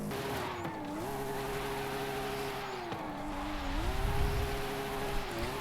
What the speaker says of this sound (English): I just kind of felt like drifting, so.